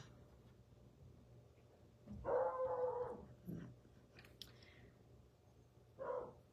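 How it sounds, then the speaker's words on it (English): A dog lets out a drawn-out howl-like bark, then a shorter bark and a final yelp, fairly faint and indoors with no talking. "Bruno, don't go barking."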